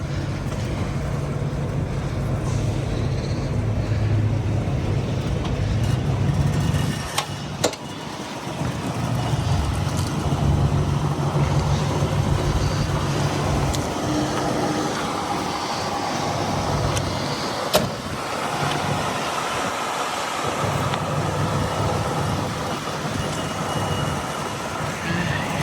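A 1977 Ford Ranchero GT being driven out for shipping: a steady, fairly loud low engine rumble and road noise lasting throughout, with a few brief knocks, and no talking.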